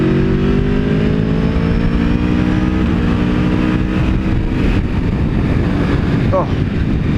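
An Aprilia Tuono V4 1100 Factory motorcycle rides along a road with a loud, continuous engine drone whose pitch slowly climbs under heavy wind roar, heard from the rider's position.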